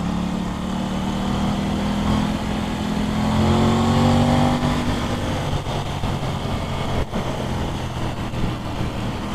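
An Aprilia RS660 sport motorcycle engine revs up and holds a high, rising whine, then settles back into a steady drone, loud and close.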